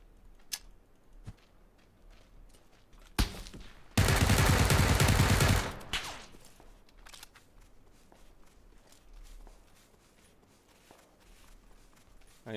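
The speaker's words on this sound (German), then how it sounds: "Ich werde vom Sniper beschossen" Sniper gunfire in PUBG, a few sharp isolated cracks spaced apart, followed by a loud two-second burst of dense noise, amid quieter movement and footstep sounds.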